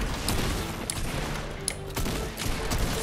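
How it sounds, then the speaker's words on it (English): Rapid gunfire from a player shooting in Fortnite, a dense run of cracking bursts that keeps going for a few seconds with short gaps between volleys. "There's a guy shooting you"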